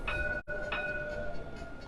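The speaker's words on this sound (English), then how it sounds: "Oh, and I hear the tram." A tram rolling down a sunny street in Tours sounds a steady ringing warning chime over low rumbling street noise, with a brief break partway through.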